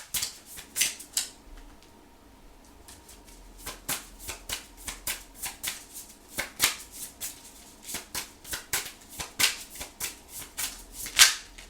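Tarot cards are shuffled by hand in a quiet room: a steady run of short, crisp riffling and flicking bursts, faint and close, with no one talking.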